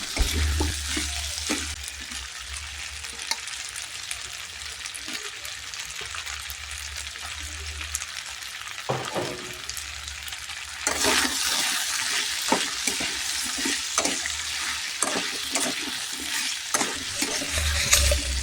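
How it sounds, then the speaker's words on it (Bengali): Potatoes with chopped tomato being stirred and fried in a pan for ghugni, a steady sizzle with repeated scraping spoon strokes, louder frying in the later half, no voices. "এই পর্যায়ে ভালো করে নাড়ার পরে আমি টমেটো কুচি দিয়ে আবার ভালো করে নেড়ে কষিয়ে নেব।"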